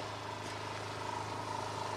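Motorized garden sprayer used as a blower to clear dust off a village road before repair: a steady, droning small-engine hum that holds at an even level throughout, with no voices.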